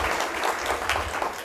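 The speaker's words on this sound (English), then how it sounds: "Come, clap yourself." An audience at a law school conference on Caribbean constitutional reform breaks into a continuous, full round of applause that fills the room evenly from start to finish.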